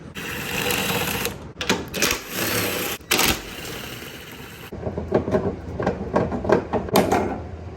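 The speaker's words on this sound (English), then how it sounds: "we're going to take out these 14 millimeter bolts, and then the whole strut assembly will fall down" An impact or ratchet gun whirs in rapid bursts, removing 14 mm bolts from the strut assembly of a 2010–2016 Hyundai Genesis Coupe, with short pauses between runs, loud and close.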